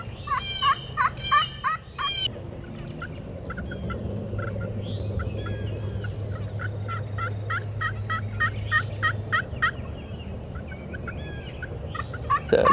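Wild turkey gobblers gobble repeatedly in loud, rattling bursts during a hunt over decoys, several calls overlapping and carrying across the woods with no talk.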